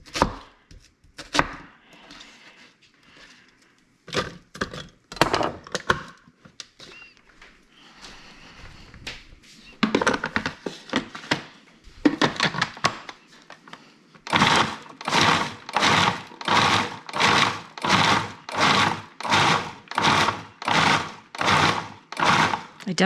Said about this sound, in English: I'm going to roughly chop these.